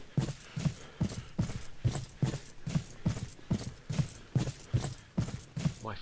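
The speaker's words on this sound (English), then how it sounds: "My footsteps sound awfully loud." Loud, steady footsteps from a character in the zombie survival video game The Dead Linger, a regular rhythmic thudding of about two steps per second that continues without pause and with no talk.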